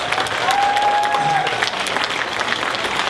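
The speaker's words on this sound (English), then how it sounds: "Don't they deserve a great applause, please?" At a multicultural day event, an audience applauds dance performers, a full steady wash of clapping held throughout with a faint whistle-like tone briefly above it.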